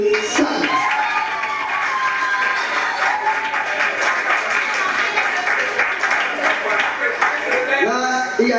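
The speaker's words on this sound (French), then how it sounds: "Juste par applaudissement, est-ce qu'il y a de belles femmes dans cette salle?" A comedy show audience in a hall claps and cheers, with shouts and mixed voices rising over the applause throughout, loud and crowded.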